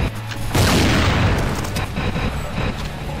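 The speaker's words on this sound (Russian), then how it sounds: "Он взрывными стрелами кем-то стреляет." Explosive arrows bursting in the game Soldat, a loud boom about half a second in that decays into a scatter of smaller blasts and crackling over roughly three seconds.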